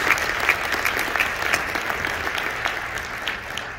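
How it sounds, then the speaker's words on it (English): Sustained audience applause at a medical association inauguration, steady dense clapping from a crowd filling the whole stretch with scattered louder claps. "just another round of applause for Dr. Premack"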